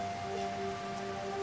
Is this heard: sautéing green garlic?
no